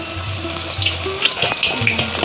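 Small lote fish (Bombay duck) being fried into crisp Bengali pakora in hot oil, giving a steady close sizzle with some clinks and a low hum running throughout.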